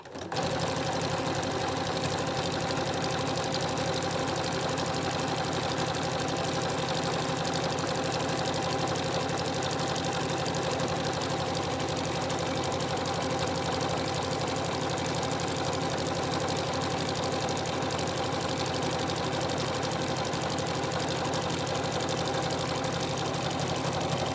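Sewing machine running steadily while stitching homemade washable makeup remover pads, a close, continuous mechanical whir and rapid needle clatter throughout with no pauses, near and fairly loud, no talking.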